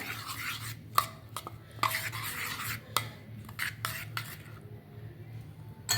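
A spoon stirring buttermilk into rice water, giving repeated metallic scrapes and clinks against the vessel in an irregular rhythm over a low steady hum, close and fairly clear with no talking.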